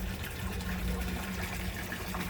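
Water pours steadily into a home fish tank during a small water change, a continuous close gushing and trickling wash with no voices.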